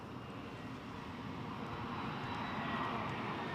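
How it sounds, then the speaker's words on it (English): An EasyJet airliner comes in fast to land at Newcastle International Airport, its engine roar a steady, broad rumble that swells slightly toward the end, heard alone without voices. "that EasyJet came in fast"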